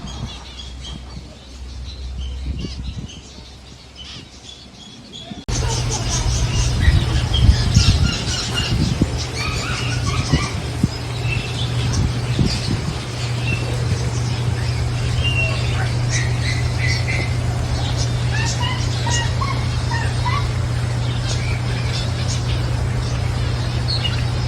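Many small birds squawk and chirp in quick, overlapping bursts as they flock to seed held on an open palm in a zoo aviary in Madinah, loud and busy after a quieter start, over steady background noise.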